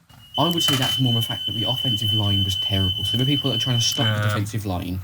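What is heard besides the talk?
fire alarm going off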